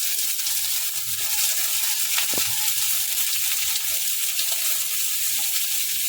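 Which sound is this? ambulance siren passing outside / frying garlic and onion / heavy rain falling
frying garlic and onion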